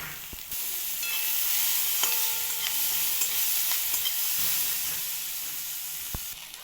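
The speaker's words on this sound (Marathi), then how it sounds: "मऊ होईपर्यंत याला असं परतून घ्यायचं" Tomatoes with garlic and green chili stir-fried in oil until soft, a steady close sizzle with faint scraping stirs and occasional clinks running throughout, no voices.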